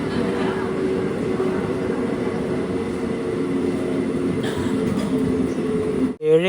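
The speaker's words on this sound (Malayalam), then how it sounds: "ട്രെയിൻ ഇപ്പോൾ ഏഴുമല സ്റ്റേഷനിലേക്ക് എത്തിയേ" Malabar Express pulling into Ezhimala station gives a steady low rumble of wheels and carriages, moderately loud and continuous, with a brief sharp burst of noise near the end.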